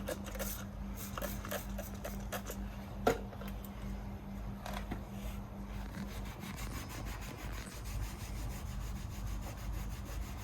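Microfiber cloth rubbed by hand across the bodywork of a Renault Clio while debadging, leaving a steady, close scrubbing texture that runs throughout, with one sharp tap near the start.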